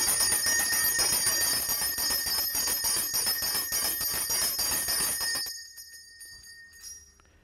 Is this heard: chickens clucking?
no